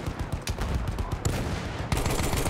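Rapid gunfire from the Battlefield 1 video game rings out in dense, overlapping bursts of loud close shots that run continuously without a break.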